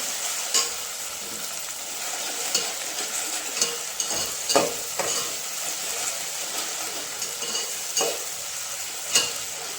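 Whole spices for biryani frying in a pan, a steady sizzle broken by repeated scrapes and clinks of a spoon stirring, close and alone without talk.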